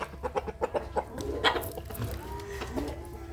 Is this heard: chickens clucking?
yes